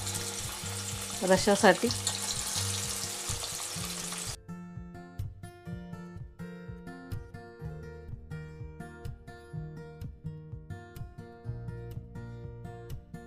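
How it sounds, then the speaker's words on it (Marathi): Pieces of Katla fish fry in hot oil with a steady sizzle and some stirring clatter at first, then the sound turns into a rhythmic pattern of soft thuds under music. "हे आपण फ्राय करून घेऊ मच्छीचे तुकडे"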